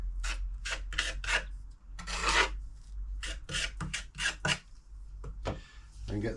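Mortar being pressed and smoothed into an outdoor kitchen build with a trowel, giving repeated close rasping, scraping strokes in a steady rhythm, moderately loud.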